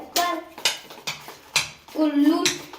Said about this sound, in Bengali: এই মিশ্রণটি ভালো করে নাড়িয়ে নেব